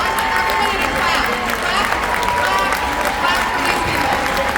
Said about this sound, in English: I want everybody to clap.